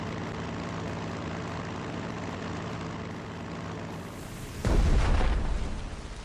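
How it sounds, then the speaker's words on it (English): A bomb explodes in Strategic Mind: The Pacific, a heavy low boom that erupts after several seconds of steady engine drone and rumbles on loudly to the end. "Things are going to explode. Be careful with the bombs."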